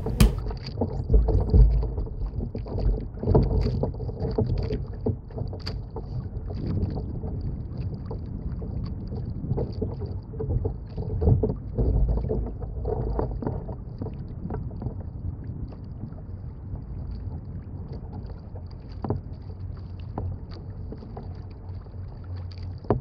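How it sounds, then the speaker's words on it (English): A Hobie Tandem Island sailing kayak moves under sail on the Delaware River near the Port of Philadelphia, with a steady low wash of water and wind, soft knocks and creaks from the hull, and no talking. "You'll have just the ambient noise from the boat while it's under sail."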